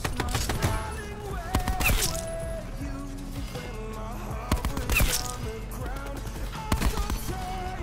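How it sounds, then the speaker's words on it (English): A default-class LMG fires in Black Ops 4 gameplay, producing dense, loud sustained bursts of automatic gunfire that repeat in quick succession over a busy game soundscape. "I'm actually using the default LMG class. And this thing melts."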